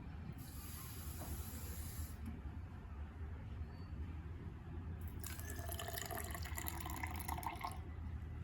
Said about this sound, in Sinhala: ඊළඟට අපි වතුර එකතු කරගන්නවා.